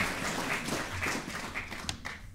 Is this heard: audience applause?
yes